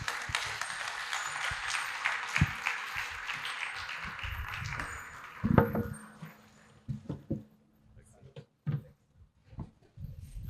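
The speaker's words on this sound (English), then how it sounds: "Another round of applause to our speakers" Applause from a health forum audience fills the first half, a steady dense clapping that thins after about six seconds into scattered claps and knocks.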